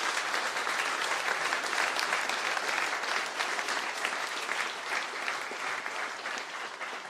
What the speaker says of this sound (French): je vous invite à applaudir pour cette conclusion Marion Maréchal